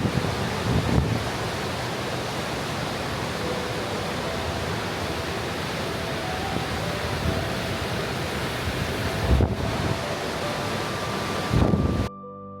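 Dettifoss waterfall on the glacial river Jökulsá á Fjöllum, a dense steady roar of heavy falling water, broadband and unbroken, with a few brief wind bumps and no voices.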